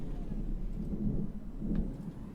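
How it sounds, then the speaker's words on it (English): Low, rolling rumble of thunder swelling twice, a deep steady roar with no voices. "Big thunderclap here."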